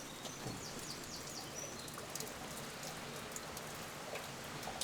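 Steady rain patters on a tarp overhead on a wet day at a DIY barn build site, a dense, even hiss of drops with a few louder splats and faint birdsong far off.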